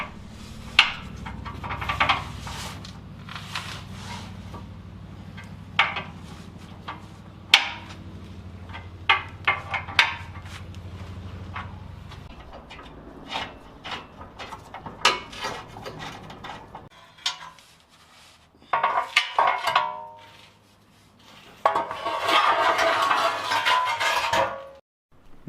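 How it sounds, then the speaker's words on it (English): Someone working under a Jeep JK with a 3.8 engine and 42RLE transmission removes the skid plate, making scattered metallic knocks, scrapes and clanks of loosening hardware and shifting metal, close and uneven, with no talking. "first I have to remove the skid plate."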